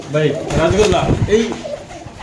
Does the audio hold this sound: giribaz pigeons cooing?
yes